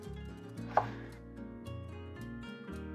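A knife cuts through jackfruit in a kitchen, giving one sharp, close chop against steady background music.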